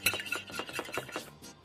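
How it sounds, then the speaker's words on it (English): An egg being whisked in a bowl, a quick steady run of light clinking strokes of a whisk against the bowl, close and fairly quiet with no talking. "We want to whisk the egg until it's completely uniform."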